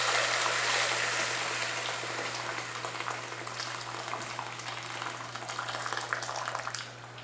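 For a tom yum shrimp soup, a steady hiss of boiled water pours into a pot, a continuous close rush with no talk that fades near the end.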